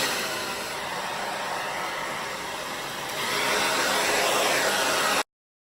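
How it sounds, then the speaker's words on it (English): A handheld blow dryer runs steadily with a constant whooshing airflow, used up close to force dry a first coat of paint on glass, growing slightly louder partway through before cutting off abruptly. "I'm going to try to force dry it here with my blow dryer."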